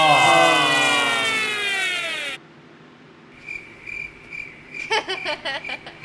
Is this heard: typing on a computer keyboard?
no